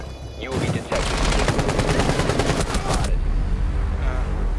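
Rapid automatic gunfire from a Rainbow Six Siege match on the Chalet map, a loud sustained burst of shots lasting a couple of seconds amid game noise and voice chat.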